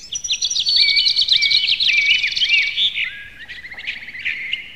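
Small birds chirp and trill busily at a little birdhouse feeder, a bright continuous stream of close calls that thins out toward the end, with no voices.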